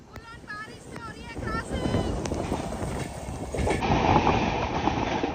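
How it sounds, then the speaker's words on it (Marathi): A train rumbles steadily nearby with rhythmic clatter, joined by brief whistle-like tones early on, and growing louder toward the end. "फाइनली हमारी ट्रेन पहुंची आहे बेंगलुरु"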